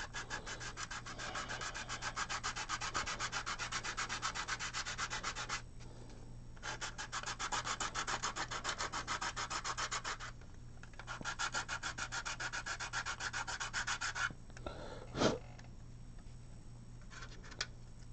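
Steady sanding strokes on a scale model part in a rod shop, a continuous close rasping rub that runs in long bursts with brief pauses and ends with a short knock.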